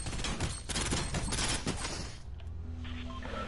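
Rapid bursts of gunfire in the Fortnite video game rattle loudly for about two seconds, then give way to quieter game ambience and tones.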